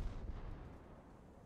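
76 mm high-explosive naval gun rounds fired at a destroyer in the video game War Thunder: a muffled, distant boom opens and then fades into a low rumbling decay.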